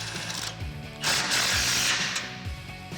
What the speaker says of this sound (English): with an 18mm socket and an 18mm wrench, tighten down the nut on the end of the bolt beneath it